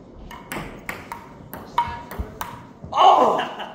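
Table tennis ball clicks back and forth in a quick rally after a serve, a series of sharp, evenly spaced pings and taps at close range, with people talking over it.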